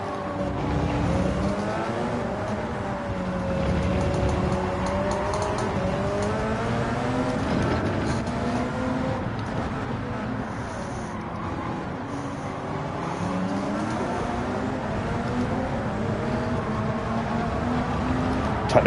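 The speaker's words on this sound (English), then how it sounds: "Stiggy Moss in the Porsche with that crazy acceleration out of the slow corners" Porsche race car in Gran Turismo 7 accelerating hard out of slow corners, its engine droning steadily with rising and falling pitch through gear changes, loud and continuous with other cars faintly behind.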